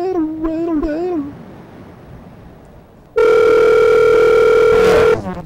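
A loud, steady telephone tone sounds alone for about two seconds after a stretch of voices and quieter room noise, then cuts off abruptly.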